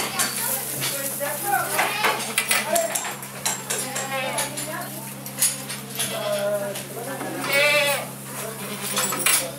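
Several goats bleat repeatedly, overlapping and nearby, at a dairy goat farm where the goats are milked, with a busy farm clatter and people talking in the background.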